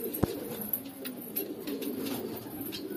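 An almond-coloured khatang pigeon coos softly nearby, low repeated murmuring calls over a quiet background, with one brief sharp knock near the start.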